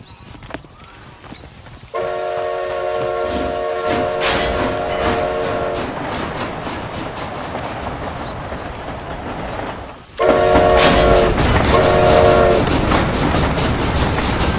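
A train rolls along the rails with steady clattering rumble, and a loud horn sounds twice, first for several seconds and again near the end.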